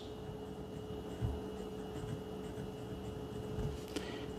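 A Moonman S5 eyedropper fountain pen with a fine nib, filled with Noodler's Cactus Fruit ink, writing on paper: a soft, steady scratch of nib strokes, quiet and close, over a constant low background hum.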